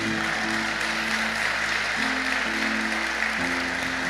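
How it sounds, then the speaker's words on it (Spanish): A church congregation applauds, a steady wash of clapping at moderate volume heard under sustained organ or keyboard tones. "Le damos un aplauso al Señor por eso."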